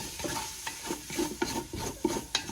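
Aromatics with chopped parsley get a quick stir in a hot pan for a meatball sauce: a steady, close sizzle with repeated scraping strokes of the spoon.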